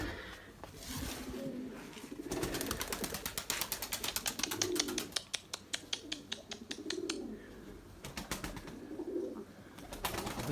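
Young crested Erzurum white pigeons coo softly in low, repeated phrases, while a burst of rapid, crisp clattering taps rises in the middle and then thins out, all heard fairly close in a quiet space.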